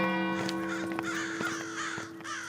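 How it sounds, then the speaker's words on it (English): Several crows caw at dusk near Madingley Hall, repeated harsh calls at moderate distance over a steady tonal hum, with no talking. "The sun is down, there are crows flying around"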